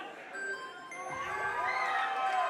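Wrestling crowd at a PWA Ringmasters championship match cheering and shouting in a steady, swelling roar, with scattered whoops rising toward the end.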